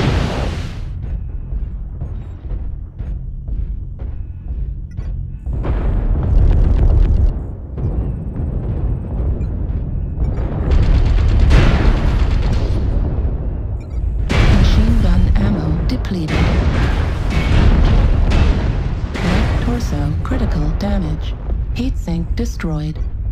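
In MechWarrior Online, with a Kit Fox KFX-C mech in combat, dense booming explosions and heavy weapon bursts hit loud and close as a mech is destroyed, while short voiced announcements are heard among the blasts.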